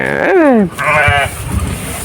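A goat bleats twice up close, a wavering cry that dips in pitch and then a second shorter, steadier bleat, followed by quiet background noise.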